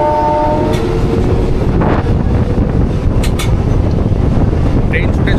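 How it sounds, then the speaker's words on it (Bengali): A train on the Tamluk to Digha line runs at speed with a loud, continuous rumble and rattle, short horn tones early on and faint voices beneath. "ট্রেন ছুটে চলেছে তার আপন গতিতে এবং স্পিডও ভালোই, খারাপ নয়।"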